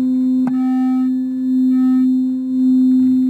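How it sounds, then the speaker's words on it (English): A struck tuning fork rings a pure, steady sine tone after a brief tap, sustained and loud throughout with faint overtones fading in and out, no voices. "So tuning forks tend to produce a very, what's called a pure tone."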